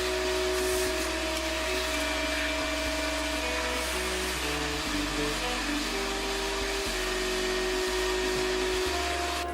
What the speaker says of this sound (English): Vacuum up any loose chips or cuttings,